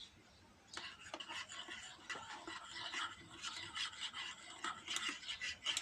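A homemade sunscreen mixture containing Olivem is stirred in a container, giving quiet, continuous rasping and rubbing strokes in an uneven rhythm, heard close up with no speech.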